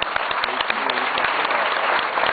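Audience applause at a live music concert, a steady dense wash of clapping filling the room from start to finish with no voices over it.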